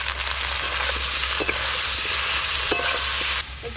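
Eggplant frying in fish oil crackles in a loud, dense sizzle close by, with brief scraping clicks as it is stirred in the pan, no voices over it.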